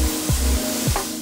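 A steak sizzles as it sears in a lightly buttered hot pan, a steady close hiss with a couple of brief utensil taps.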